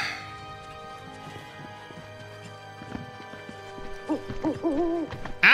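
An owl in Final Fantasy 7 Rebirth gives a few soft, wavering hoots near the end, faint over a quiet game ambience of light footsteps.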